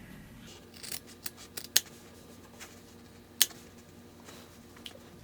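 Scissors cutting pool table cloth at a pocket: a handful of sharp, close snips at uneven intervals, two of them crisp and prominent, over a quiet room with no talking.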